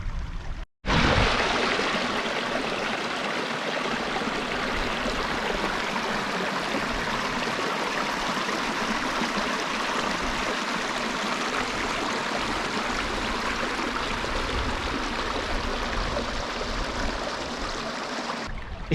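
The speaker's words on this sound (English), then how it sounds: "whilst I'm just stood on a river's edge, enjoying the sound of the water" Steady river water rushing and trickling over rocks near the base of an old leaky dam, a continuous broadband wash heard up close with no voices.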